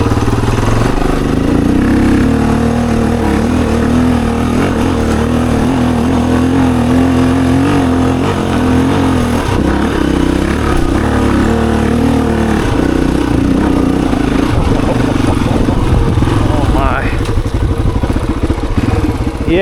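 A dirt bike engine pulls hard and steady in second gear up a big hill climb with no run-up, loud and close, with clattering mechanical noise and no pause for twenty seconds.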